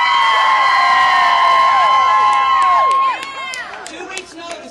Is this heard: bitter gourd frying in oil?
no